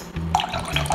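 Broth pours from a container into a pot with an uneven liquid gush and small splashes, steady and close for about a second.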